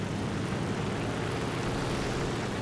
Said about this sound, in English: There's a Spitfire coming in.